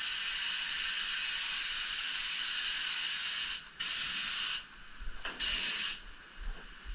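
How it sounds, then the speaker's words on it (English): A paint spray gun hisses in steady bursts: one long spray, then shorter blasts with brief pauses between them, close and fairly loud. "spray the tip first"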